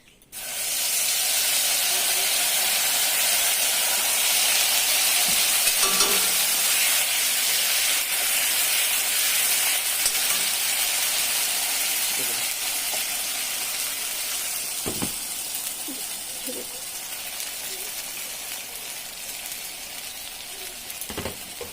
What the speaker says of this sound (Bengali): জিরাটা আমার ভাজা হয়ে গেছে, সম্বাসটা এখন ইসে দিয়ে দিব পেস্টটা।